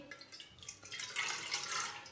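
Water being poured into a pan for egg tea in a home kitchen, a soft trickling splash that builds and thickens toward the end, faint and close, with no talking.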